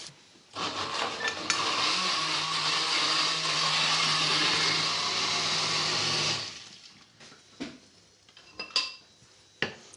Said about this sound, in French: et direction mixeur